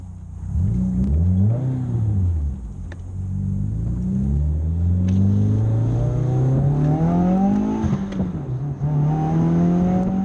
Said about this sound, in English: I got my window down a little bit so you can hear what the exhaust sounds like.